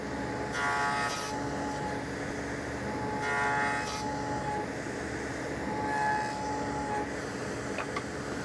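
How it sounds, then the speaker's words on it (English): Hand saw cutting down each side of a wooden tenon, heard as a few separate bursts of rasping strokes, close and moderately loud, with quiet pauses between passes and no talk. "Now I'm going to make a cut on each side and slowly cut until that tenon fits in there perfectly."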